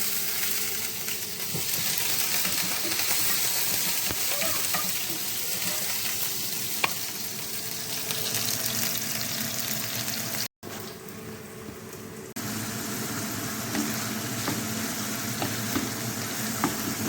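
Sliced onions sizzle and crackle steadily in hot oil for beef sisig, a dense continuous fry broken by a brief gap near the end, with occasional stirring scrapes in the pan.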